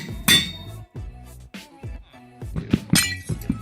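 Glass blocks mined with a silk touch pickaxe in Minecraft, giving several short sharp glassy clinks and cracks in quick succession, close and crisp, with a couple of louder bursts near the start and end.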